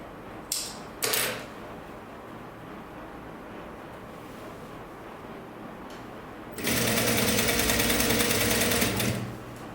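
A sewing machine stitches a sleeveless top, starting with a couple of sharp clicks, then running in one loud, steady, close burst for nearly three seconds before stopping.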